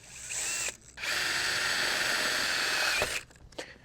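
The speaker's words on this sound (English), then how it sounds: "we're going to take a 5/16 drill bit and we're going to drill through the hole in the hand crank socket here and through the roll bar." A power drill with a 5/16 bit bores through a steel roll bar tube via a hand crank socket on a high tunnel frame. A close, loud whine comes in a short burst, then a longer sustained run, with no talk.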